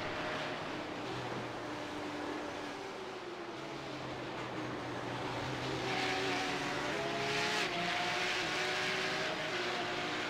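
Race cars on Sonoma Raceway in iRacing, engines droning together with rising and falling pitch as several cars pass close, under a constant wash of noise.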